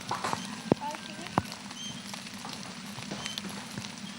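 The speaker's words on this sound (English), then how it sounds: "This is not natural territory for a horse, but they will follow." A horse walks over rocky, unnatural ground, its hooves clopping and scraping in a loose, uneven rhythm with a few sharp knocks on stone, fairly faint under outdoor background noise.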